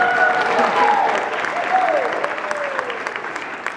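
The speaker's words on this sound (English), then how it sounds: "That deserved a clap." An audience at a Rhode Island Comic Con 2013 panel with a celebrity guest breaks into steady, moderately loud clapping that continues evenly for a few seconds while a voice speaks over it.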